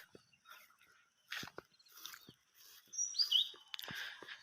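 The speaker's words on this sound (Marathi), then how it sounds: "आता आणि पक्ष्यांचे आवाज तुम्ही ऐकू ऐकत असाल" Scattered bird chirps and short whistled calls in morning farm fields by rice paddies, moderately close in a quiet open space, with a few soft thumps between them.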